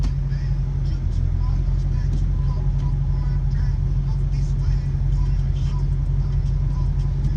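An LB7 Duramax diesel truck engine with 300,000 miles runs under load in drive, a steady, loud low rumble and drone throughout with faint voices over it.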